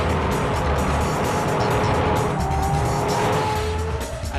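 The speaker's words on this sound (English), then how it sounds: "A Honda engine blowing up there for Jacques Villeneuve." Race car noise from the 2003 Monaco Grand Prix, where Jacques Villeneuve's Honda Formula 1 engine blows up. A dense, loud, steady roar fills the whole stretch, with a rising engine whine partway through and no talk.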